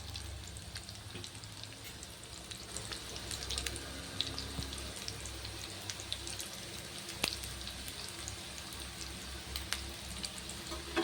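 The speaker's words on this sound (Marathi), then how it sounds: "मंद छान खरपूस असा आपण या वड्या तळून घेऊ" Pumpkin vadi fry in oil over a low flame, giving a steady, soft sizzle with scattered small crackles and pops, close up and continuous with no talking.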